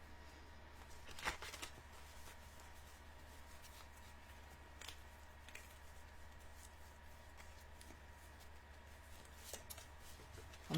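Tarot cards shuffled and drawn from a deck, giving soft, quiet papery rustles and light flicks over a low steady hum, with a few sharper snaps scattered through.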